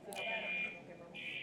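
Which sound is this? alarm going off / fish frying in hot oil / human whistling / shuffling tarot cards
alarm going off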